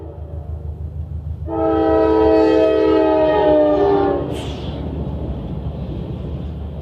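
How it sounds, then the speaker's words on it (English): A train horn blares loudly for a few seconds over rumbling rail noise, then cuts off as the train keeps rolling past. "there's a train coming through right now"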